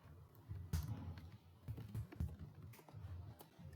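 Keys tapped on a computer keyboard while entering Excel VBA code, several quick clustered keystrokes close by with short pauses between bursts, no talking.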